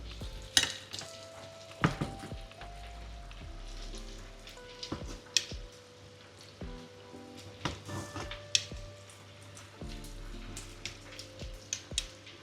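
Spring rolls deep-frying in hot oil for a Vietnamese meal give a steady close sizzle and crackle with scattered sharper pops and occasional stirring clatter throughout, no talking.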